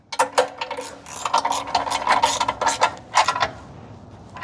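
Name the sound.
ratchet tightening rear U-bolts on a vehicle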